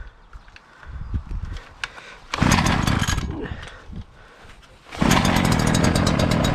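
A Parkside petrol garden tool engine is pulled over with stiff choke, sputters briefly, then catches and runs at a loud, steady high-revving drone, with a short quieter idle dip in between.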